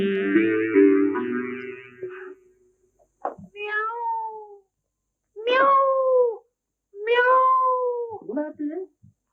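A cat meows several times in a row, clear and close, each call a drawn-out rising-falling cry separated by short silences, following a brief stretch of other sound at the start.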